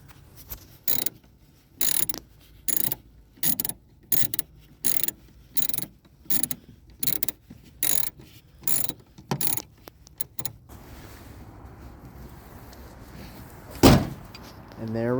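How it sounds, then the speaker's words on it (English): A ratchet tightens three nuts on a bubble tail light for a Nissan 200SX B14, about a dozen short, evenly spaced bursts of clicking, close and moderately loud, followed by quieter rustling and a single louder knock. "And now we're going to tighten down our 3 nuts,"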